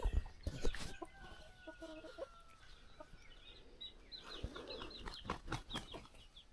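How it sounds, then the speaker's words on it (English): Birds chirp and cluck outdoors in the morning, a scattering of calls at moderate distance over soft ambient noise. "The birds are chirping, and this is what I wake up to."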